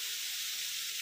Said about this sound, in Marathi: आणि आता फोडणी काम चाललेलं आहे